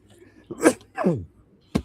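Three short bursts, the last one a sharp, abrupt sneeze, close and fairly loud against an otherwise quiet background.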